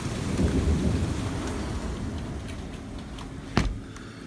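Steady rain pours down outdoors in a thunderstorm, a dense rushing hiss with low rumbling thunder beneath it, and a sharp crack of thunder bursts out near the end.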